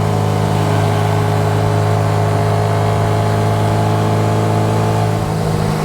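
A steady, loud engine drone holds throughout with a low, even rumble, like an Austin-Healey Bugeye Sprite idling through a header and twin tip exhaust, with no voices.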